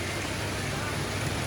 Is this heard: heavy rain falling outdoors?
yes